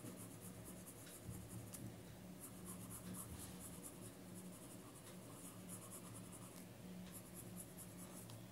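A pencil scratches steadily across paper in short strokes, drawing the leaves of a rose sketch. The rubbing is soft and close, with a continuous texture and a few faint ticks. No one speaks.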